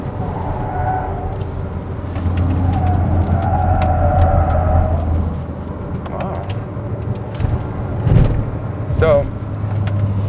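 A Ssangyong Korando engine on the road as the driver downshifts with paddle shifters, a steady droning hum with a brief rise in revs, heard from inside the cabin under a voice.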